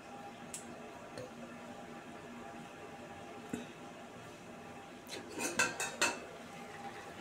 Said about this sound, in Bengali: ঢাকনাটা খুলে দেখি কেমন হলো